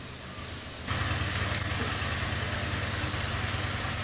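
Onions fry in a pan for a fish dish cooked in coconut milk, with a steady, close frying hiss that rises abruptly to full strength and continues evenly.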